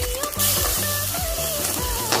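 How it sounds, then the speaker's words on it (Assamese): Spices such as turmeric and Kashmiri red chilli powder sizzle steadily in hot oil in a pan for egg curry, a close, loud crackle, with tonal music layered over it. "মছলাখিনি এতিয়া ধুনীয়াকৈ ভুনি লম"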